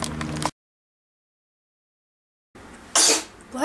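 A single loud, close sneeze bursts out in a home kitchen during soup cooking, following a brief stretch of speech and a pause, with some lingering noise after it.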